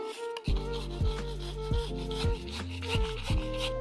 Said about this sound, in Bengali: আমি গুড়গুলিকে একটু গ্রেটারের সাহায্যে গুঁড়িয়ে নিই তাতে খুব ভালোভাবে গলে যাবে গুড়